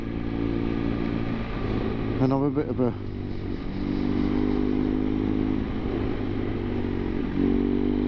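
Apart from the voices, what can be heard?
motorbike riding on road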